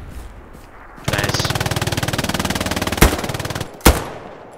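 Sustained machine gun burst in the World War II shooter Hell Let Loose, a rapid steady rattle lasting a few seconds and then stopping, followed by two sharp, loud single shots nearby.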